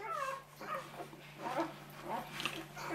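Newborn bully puppies whimper and yip softly in short, repeated high cries close by, under a low steady hum, likely from a heat lamp during a whelping.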